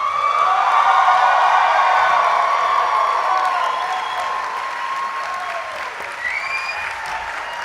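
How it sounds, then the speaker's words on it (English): An audience applauds graduates at an executive MBA recognition ceremony, with strong, sustained clapping and some cheering from a large hall that gradually eases in volume, and a few whoops rising near the end. "Please join us in applauding the graduates."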